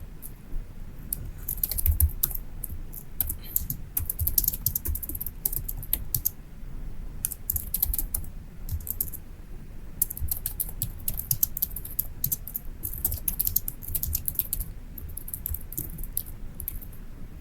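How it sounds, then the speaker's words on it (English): Rapid bursts of typing on a computer keyboard as shipment details are entered into a freight management form, close crisp key clicks in clusters with short pauses, no speech. "So I'll just type in shipment details here."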